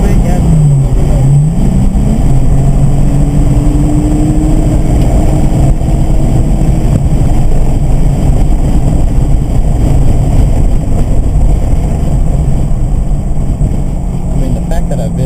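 A 2007 Lexus IS350 driving hard around a race track, its engine droning loudly and continuously with a rising pitch early on, while a coach talks over the engine noise.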